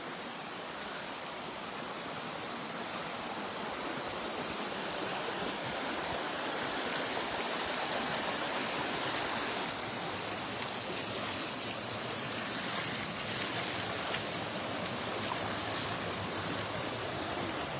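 Floodwater rushes steadily along a washed-out dirt road in Aiken County, undercutting a bank beside a hayfield, a dense continuous roar like a fast stream that stays loud and unbroken throughout with no voices.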